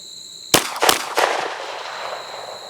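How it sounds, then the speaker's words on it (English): Two sharp pistol shots ring out at a shooting range, a loud crack followed about a third of a second later by a second report, each trailing off in echoing reverberation with no talking. "All right, that's 2 shots."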